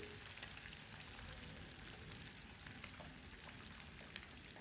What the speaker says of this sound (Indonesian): Setelah itu digoreng lagi ya sisanya hingga selesai.